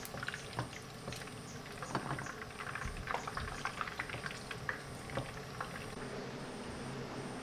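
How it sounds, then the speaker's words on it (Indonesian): Chicken wings cook in a non-stick pan with a steady bubbling sizzle, dotted with scattered pops and crackles of spitting oil, moderately quiet and close. "kita masak sayap ayamnya sampai matang ya"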